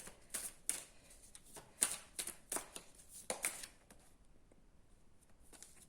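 Tarot cards shuffled and drawn by hand, a quiet series of crisp papery flicks and slaps in an irregular rhythm, close and soft, thinning out toward the end.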